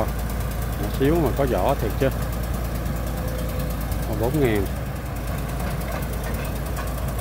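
A cheap tractor engine idles in a constant low chugging rumble throughout, with someone talking briefly over it twice near the start and middle.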